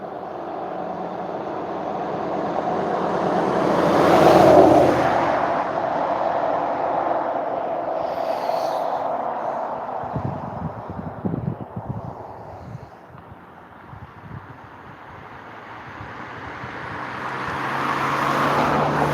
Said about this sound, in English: Let's give it until this truck goes by.